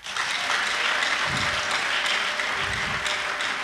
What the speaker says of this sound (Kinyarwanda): mwakomeye Imana amashyi